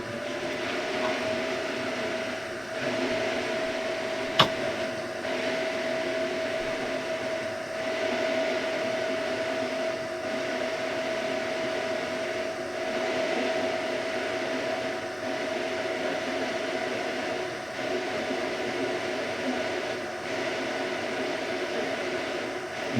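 Hot air gun blowing steadily on a flight controller circuit board coated with flux, a constant airy hiss with a faint whine held throughout, one sharp click near the start, no talking.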